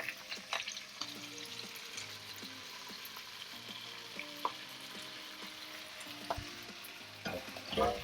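Hor fun noodles stir-frying with translucent onion, a continuous sizzle with scraping and tossing noises, moderately quiet, plus a soft tonal hum in the background.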